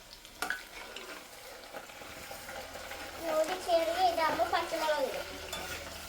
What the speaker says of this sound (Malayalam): അമ്മ അങ്ങനെ ഇളക്കാനായിട്ടുള്ള തവിയൊക്കെ എടുത്ത് ഇളക്കി